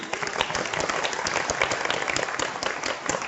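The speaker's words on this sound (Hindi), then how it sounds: "जोरदार ताली उनके लिए।" Dense, steady applause from a seminar audience at a SafeShop business event, many hands clapping together close and loud for the whole stretch without a pause.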